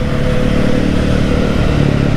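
Kawasaki Ninja ZX-4RR four-cylinder motorcycle engine running with its stock exhaust, a close, loud, deep and steady bassy drone with no voices.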